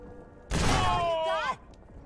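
A shotgun blast in the video game Mutant Year Zero, one loud burst lasting about a second with a ringing, wavering tail, standing out sharply from quiet background.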